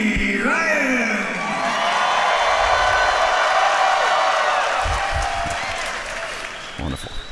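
A crowd at an armored MMA exhibition fight breaks into loud applause and cheering with whoops and yells, swelling and then tapering off, while an announcer's voice carries over the noise.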